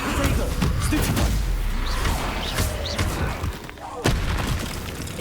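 A Stupefy spell cast in the Hogwarts Legacy game, a booming magical burst with whooshes and crashes amid dense continuous combat noise, with a voice talking over it.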